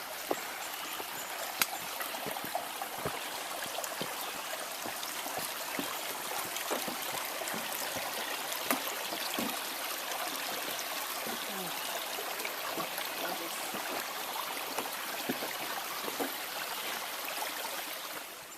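A creek flows steadily nearby on the Appalachian Trail between Indian Grave and Nolichucky, a continuous bright rushing and trickling of water with no talking over it.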